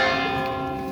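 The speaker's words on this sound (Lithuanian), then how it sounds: "Varpas muša čia," A church bell rings in a town square in Navarra, Spain, its sustained metallic tone humming steadily and fairly loud throughout, with no talking.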